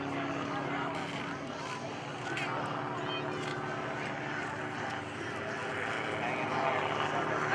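Propeller engine of Jason Flood's aerobatic airplane droning and shifting in pitch during a maneuver at the 2013 New Garden Airshow, heard at a distance under a steady broadband wash.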